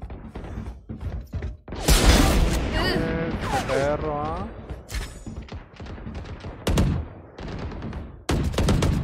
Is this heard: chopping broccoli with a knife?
no